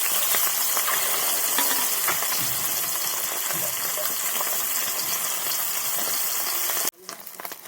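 Loud, continuous sizzling of fresh pond fish frying crisp in hot oil, crackling steadily up close, then suddenly dropping away near the end.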